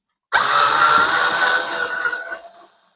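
Power tool whirs into a 7mm bolt on a Ford Fiesta MK7 radio, starting abruptly with a high whine for about two seconds, then slowing and fading out, close up and alone.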